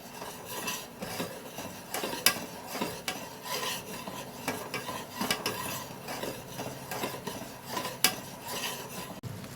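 A spoon stirs a thick dessert mixture with grated orange in a pan, scraping and knocking against the metal in an uneven rhythm with some soft sizzling. The sound is close and fairly quiet, and no voice is heard.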